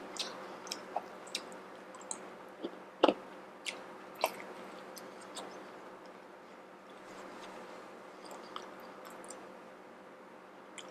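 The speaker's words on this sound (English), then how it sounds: "I'm sorry if I'm chewing with my mouth open." Mouth-open chewing of Little Caesars pizza during a mukbang, with soft wet smacks and clicks repeating in an irregular rhythm, one sharper bite standing out, close and fairly quiet against a steady background hum.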